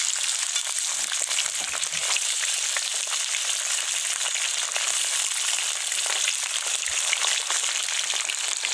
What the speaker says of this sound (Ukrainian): О, як гарненько вона шпарчить.